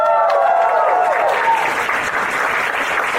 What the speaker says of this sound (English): Shall we give all these new friends a warm round of applause?